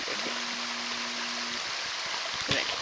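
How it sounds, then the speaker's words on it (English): Steady rushing water from a waterfall fills the air, broad and constant, with a brief louder splash near the end and no voices. "Waterfall over there."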